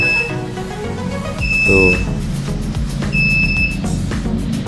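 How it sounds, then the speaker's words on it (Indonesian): A home security alarm buzzer set off by its on switch sounds in repeated high electronic tones over a loud, busy background, with a brief spoken syllable. "kita pijit buzzer on, kemudian dia nyala kayak gitu teman-teman ya"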